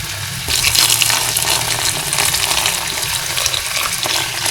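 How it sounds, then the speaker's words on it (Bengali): Broth poured into a pan of taro curry sets off a loud, steady rush of liquid and hot bubbling that starts abruptly after a short pause and keeps going close by without a break. "আমি এখন কচুর কারিতে ঝোল দিয়ে দেবো।"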